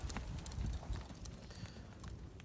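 Horse hooves clip-clop steadily on the ground as a horse is led during its first saddling, a close, continuous run of uneven thuds with no talking.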